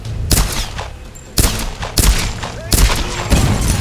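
Loud gunfire in the Tomb Raider video game comes in four sharp bursts of rapid shots, each with a ringing tail. Faint game sounds fill the gaps between the bursts.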